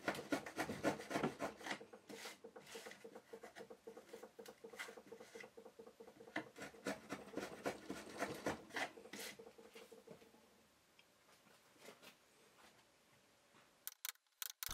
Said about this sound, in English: I use a gentle yet controlled and deliberate action on the chisel.